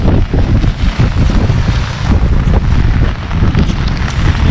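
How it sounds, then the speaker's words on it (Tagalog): Strong floodwater current rushing during Typhoon Ulysses in Sta. Lucia, Pasig: a steady, loud, broadband roar of moving water with gusty wind buffeting the microphone, continuous throughout with no voices. "Medyo malakas na rin yung current ng tubig."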